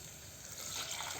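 One and a half cups of water pour into a pot of peas pulao with basmati rice, a short close splashing gush that swells slightly as the stream lands, with no talk over it.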